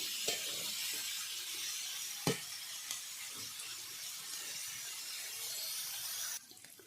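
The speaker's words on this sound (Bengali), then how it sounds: "এভাবে হালকা আঁচে বিটগুলো ভেজে নিতে হবে।" Beetroot pieces fry on low heat in a pan, giving a steady, soft sizzle with a few sharp clinks and stirring scrapes, and the sizzle drops away near the end.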